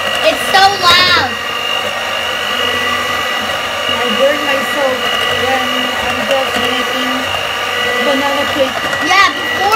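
A loud electric mixer churns chocolate cake batter in a constant, close motor whine that never lets up, with a voice speaking over the noise now and then.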